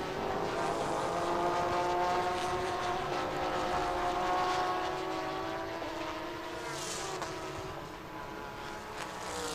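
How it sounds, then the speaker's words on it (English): Race car engines roaring past a trackside commentary box at a Thai touring car race, a loud sustained droning pass that swells and slowly fades, with harmonic engine tones rising and falling. "I'm getting goosebumps listening to the sound and vibration of the engine roaring past"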